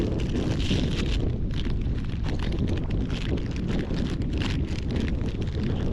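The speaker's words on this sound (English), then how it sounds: "I am being broadsided by the wind right now." Strong wind buffets the microphone on a first outing in a Grizzly boat, a steady roaring rush with gusty fluctuations that never lets up.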